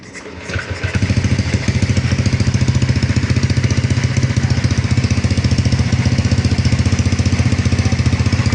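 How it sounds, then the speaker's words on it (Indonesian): A motorcycle engine cranks on the starter and catches, then settles into a steady, close, loud idle with an even rapid pulse. "Ini motornya saya starter dulu."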